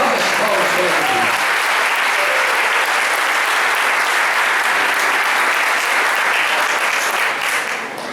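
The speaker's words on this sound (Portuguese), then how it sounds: "Tem uma salva de palmas bem forte para esta palavra, bem forte as palmas para ele." A church congregation bursts into loud, sustained applause, dense rapid clapping from many hands that holds steady throughout, with a brief voice at the very start.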